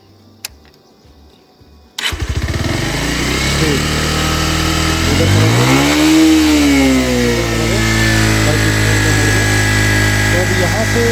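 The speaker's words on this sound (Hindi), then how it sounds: "देखो बाइक स्टार्ट करके दिखाता हूँ आपको।" A motorcycle engine fires up abruptly after a quiet moment, then revs up and down in a loud, close, steady roar in a hilly area.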